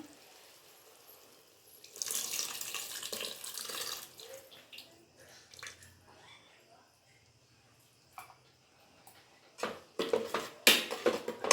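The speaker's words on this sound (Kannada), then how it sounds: "ಹುಣಸೆಹಣ್ಣಿನ ರಸನ ಹಾಕ್ಕೊಬಿಡೋಣ ಈಗ" Tamarind juice poured into a cooking pot in a home kitchen gives a soft splashing, running-liquid sound in bursts, fairly faint, with a few sharper clinks and knocks near the end.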